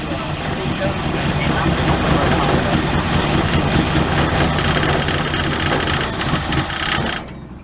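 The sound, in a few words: 1967 Ford Galaxie 500 engine running after first start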